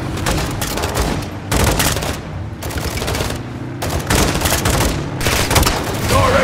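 Gunfire and explosions from the Call of Duty Modern Warfare II video game: loud, dense bursts of rapid shots and booming blasts in repeated waves, with brief lulls between volleys.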